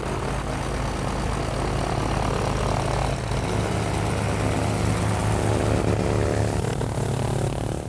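A restored propeller airplane, long abandoned, takes off and circles the airport, its engine a steady loud drone with a deep low hum that holds constant and close, with no voices.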